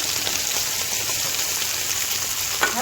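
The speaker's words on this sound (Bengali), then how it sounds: "ভালো করে ভেজে নিব।" Paneer frying in a pan with cumin and potatoes, giving a continuous close hiss and crackle of hot oil that stays even throughout, with a few faint clicks of stirring and no speech.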